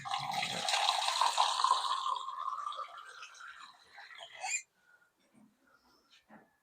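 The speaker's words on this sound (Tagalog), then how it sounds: "Lalagyan pa pala natin tubig paps." Water is poured into a cooking pot while making adobong paksiw na isda, a loud rushing splash for several seconds that thins out and stops, followed by faint small clinks.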